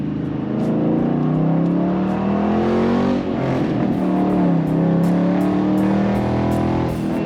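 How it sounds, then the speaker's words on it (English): A Ford Mustang with a 2-valve engine revs hard in first gear, a loud close-up exhaust drone rising in pitch, dipping briefly midway, then climbing again. "Just listen to this 2-valve, y'all. Listen to this 2-valve. First gear."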